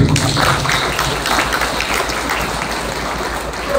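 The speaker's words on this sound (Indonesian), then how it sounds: "Maka tepuk tangan untuk semua yang ada hadir di sini" Applause from an audience gathered for a Quran recitation event marking a building project's topping-off, a dense steady wash of many hands clapping, loud and close, filling the whole stretch with no talk.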